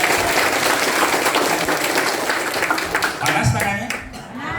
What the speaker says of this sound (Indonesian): Boleh aplaus buat MC kita.